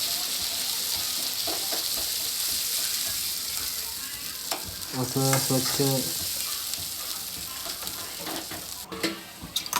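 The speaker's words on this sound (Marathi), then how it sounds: "वाटण केलेला मसाला टाकायचा आणि चांगल्या पद्धतीने त्याला फिरवून घ्यायचं" Ground masala for a river crab curry being stirred and fried in a pan, with a steady sizzle and scraping stirs throughout, a brief voice speaking partway.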